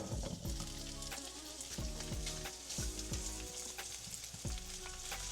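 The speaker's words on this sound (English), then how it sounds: "We're gonna head over to the stove and start browning these sausages" Sausages sizzle and fry steadily in a hot skillet on the stove, a dense close crackle that runs throughout, with occasional soft knocks and scrapes from a utensil pressing and moving them.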